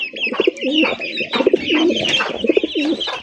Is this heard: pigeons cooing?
yes